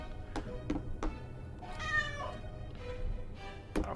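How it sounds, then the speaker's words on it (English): A cat meows a few times in Final Fantasy VII, set in the snowy Icicle Inn area, with soft knocking thumps around the mewing calls against quiet game ambience. "Okay, so there's a cat."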